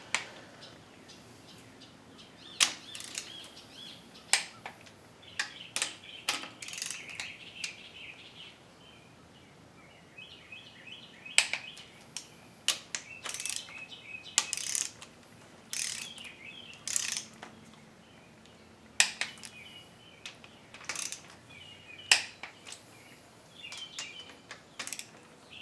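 A torque wrench tightens engine head bolts on a 350 motor for a 1973 C10, sharp ratcheting clicks in repeated bursts with pauses between bolts, close and clear, while birds chirp faintly in the background.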